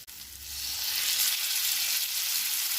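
Washed chicken pieces hitting a pan of well-fried onions set off a loud, close, steady sizzle that swells after a brief start and holds without a break.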